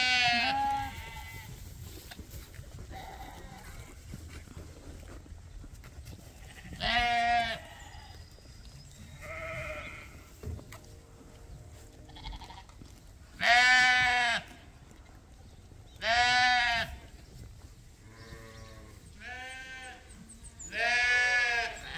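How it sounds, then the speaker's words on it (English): Dorset and Suffolk lambs and ewes bleating in a pasture, with repeated loud, close cries in bursts separated by quieter stretches of fainter calls. "Dorset lambs are back in this corner looking at the Suffolk lambs and they're crying."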